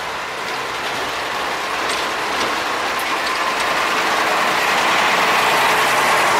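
Sugarcane train running on a railway line from cane fields to the Semboro sugar mill, heard as a steady, continuous mechanical rattle and rolling noise of wagons throughout, moderately loud with no talk.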